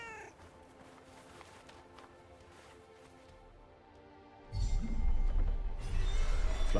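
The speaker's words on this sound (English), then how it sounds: "cat." A cat in the game Forspoken meows a few times over quiet game music, and then louder running and rustling noise takes over.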